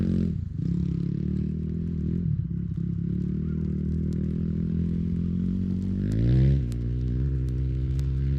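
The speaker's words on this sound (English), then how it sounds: "Campfire, we hear motorbikes in the background." Motorbike engines rev and drone in the background at an outback campfire in Australia, a low, rising and falling rumble with occasional crackles and faint clatter.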